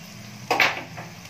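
Coriander and mint being sautéed in a pan give a quick clatter of a spoon scraping and stirring, one sharp burst followed by a softer knock, close and alone.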